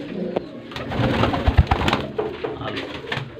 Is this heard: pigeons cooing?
yes